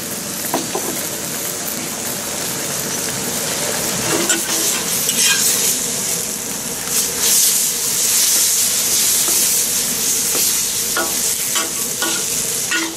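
Bean sprouts and spring onions stir-fried for beef chow mein in a hot pan, a steady loud sizzle with scraping stirring strokes running throughout, no talking.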